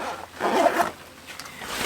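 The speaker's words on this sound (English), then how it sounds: "I love a smooth zipper." A bag zipper pulled smoothly in one continuous run lasting about a second and a half, close and clear with a soft whirring rasp.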